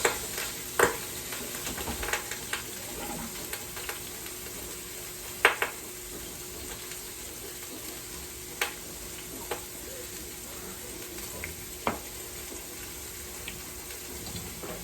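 About two pounds of ground meat fries in a quick cooker with a low, steady sizzle, broken by scattered sharp clicks as a mix-and-chop tool breaks it apart; no one speaks.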